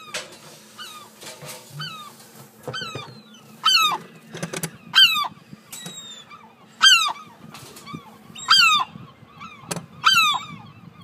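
A seagull gives a series of loud, harsh squawks close by, about eight calls coming in spaced bursts. It is set against a faint background hum, with no talking.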